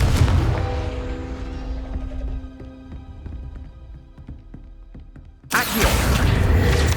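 In the video game Hogwarts Legacy, a Confringo spell explodes with a heavy rumbling boom that rings out and decays, then a second loud burst of blast noise hits near the end.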